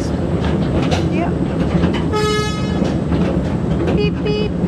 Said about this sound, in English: The train we're on is an 8-ton locomotive driven by a GM 2-stroke 104-kilowatt diesel.